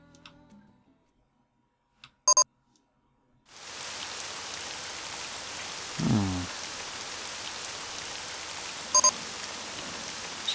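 Steady rain from RollerCoaster Tycoon 3 rises abruptly after a near-silent start and keeps up as a dense, even patter, with a few sharp ticks and a brief low thump partway through.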